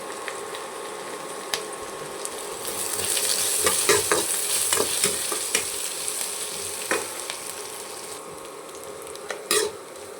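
Onions and spices for a poori potato masala sizzle loudly in a pan, the frying hiss swelling midway while a ladle scrapes and clinks against the metal in scattered strokes; no voices.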